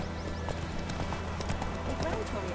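Hooves of Roach, the horse in The Witcher 3, clatter in a quick, steady rhythm while someone speaks over them and a low musical drone hums underneath.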